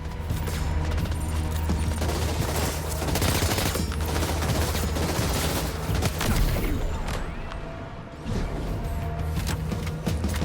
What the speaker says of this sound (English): Everyone's firing at me.